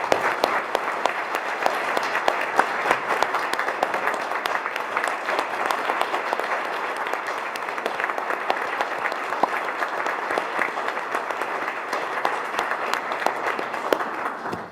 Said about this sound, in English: Please give all of these fine, outstanding young leaders another round of applause.